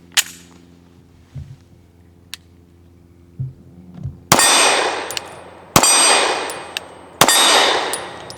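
A Canik TP9 DA pistol fires American Gunner 115 grain hollow points. After a few quiet handling clicks, three sharp, loud, ringing gunshots go off at steady intervals, and each rings out briefly before the next.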